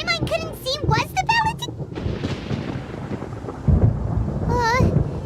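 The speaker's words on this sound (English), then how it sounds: "Paimon hears thunder!" Thunder rumbling in the Genshin Impact video game, a low, heavy roll lasting several seconds with a second boom near the end, set between bursts of chirpy, high-pitched character voices.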